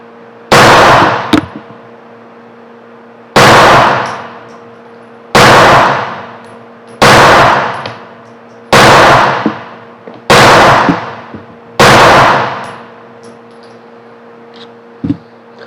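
Seven loud, close shots from a Walther PPK/S .380 pistol at a range, evenly spaced about every one and a half seconds, each with a sharp crack and a fading echo over a steady background hum.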